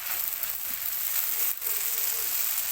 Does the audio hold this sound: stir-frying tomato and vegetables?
yes